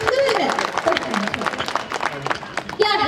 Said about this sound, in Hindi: एक बार तालियों से आदेशित करें